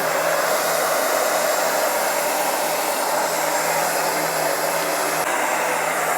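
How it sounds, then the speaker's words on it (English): A heat gun blows hot air in a steady, loud, continuous whoosh as it warms up to soften a 3D printed typing splint, unbroken and with no voices. "So what we'll do is we'll use a heat gun here."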